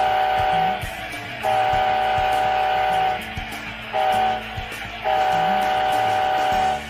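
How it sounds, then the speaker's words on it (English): DCC sound decoder in a GE ES44AC diesel model locomotive: a rumbling prime-mover drone under repeated long horn blasts, four held tones with short gaps between them, sounding alone and up close. "Each locomotive features the appropriate GE or EMD prime mover sound"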